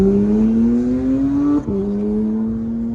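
A straight-piped Porsche GT3 engine droning steadily while driving, its pitch climbing, then dropping sharply at a gear change before holding again, loud and close.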